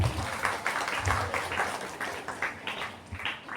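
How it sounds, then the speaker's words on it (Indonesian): Scattered applause from a group at a Friday morning Isra' Mi'raj religious gathering, a sustained patter of claps with uneven rhythm, moderately close. "Tepuk tangan semuanya."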